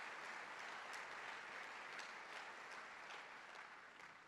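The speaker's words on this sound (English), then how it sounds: "I think he deserves a round of applause" Audience applause at a university talk: a uniform, steady wash of many hands clapping, quiet and distant-sounding, fading slightly at the close.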